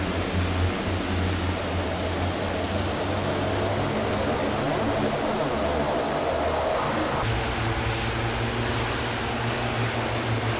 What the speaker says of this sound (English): I want to demonstrate the reverse thrusters real quick